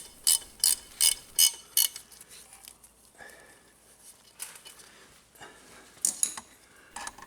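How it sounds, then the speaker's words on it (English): Bolts being tightened on the countershaft seal guard of a Honda NC750X motorcycle, a quick burst of close ratchet clicks, then quieter handling of the tool and a few more clicks near the end. "So I can tighten up the bolts, top and bottom"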